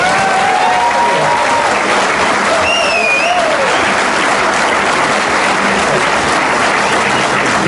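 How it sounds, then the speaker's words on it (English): A large audience at a pool table trick show applauds continuously and loudly throughout, a dense wash of clapping with a few faint whistles and voices rising above it. "Applause from this little girl here,"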